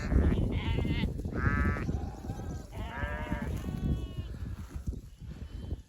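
Several sheep and lambs bleat in turn, loud and close, their wavering cries overlapping against a steady outdoor rumble on pasture.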